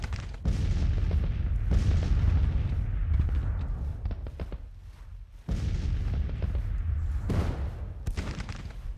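Artillery firing in a Civil War battle video game, loud booming cannon reports in dense overlapping bursts with a brief lull midway before the barrage resumes.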